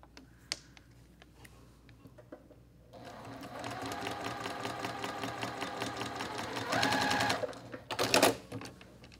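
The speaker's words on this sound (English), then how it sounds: "Stitch directly on that line" After a quiet start with a faint click, a sewing machine with an open toe foot stitches a quilt block in a steady, fast run, speeding up briefly near the end before a few handling clatters.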